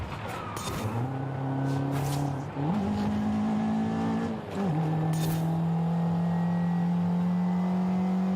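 A 1994 Mazda Miata NA with a 1.8-litre four-cylinder, driven in Forza Horizon 5, drones steadily as it accelerates, with two brief dips as it shifts gears before settling into a sustained high-revving tone.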